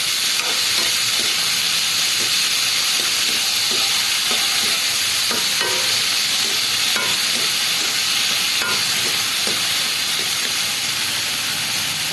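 Onion and tomato sautéing in a pan for sinigang na bangus, a steady hissing sizzle with scattered stirring clicks and spatula taps, close and constant throughout, no talking.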